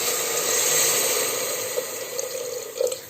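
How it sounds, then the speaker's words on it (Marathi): Water pours into a pan of fried chickpeas (chana) on a home stove, a close, steady rushing splash that holds at one level for a few seconds and then tapers, with no talking over it. "त्याच्यामध्ये आता मी पाणी टाकते।"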